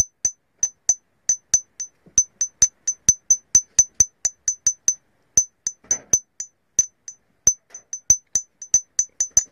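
Burmese jade stone being tapped to test its ring gives a rapid series of sharp, bright clinks, about two or three taps per second with short gaps, close and clear with no talking.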